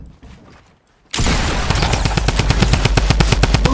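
Rapid automatic gunfire in the Fortnite video game bursts in loudly after a quiet second, a fast, evenly spaced string of close shots that continues to the end.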